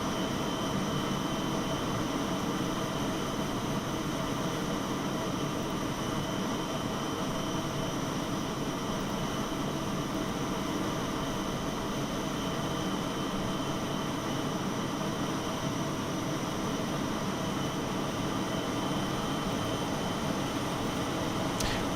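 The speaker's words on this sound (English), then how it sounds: "that's noisy with the APU" A320neo auxiliary power unit running in Microsoft Flight Simulator 2020, a steady, loud, broadband hum and whine that holds evenly for the whole stretch with no talk over it.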